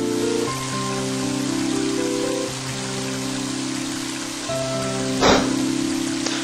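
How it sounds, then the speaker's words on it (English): Steady rain patters on surfaces in the video game Mother 3, under low sustained musical tones, with a brief louder splash or rumble near the end. "And now, it's starting to rain."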